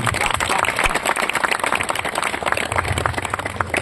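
An audience claps to welcome guests at a Nuakhai Bhetghat 2024 gathering organised by a Kalahandi Police batch, a dense, steady patter of many hands that stays fairly loud throughout.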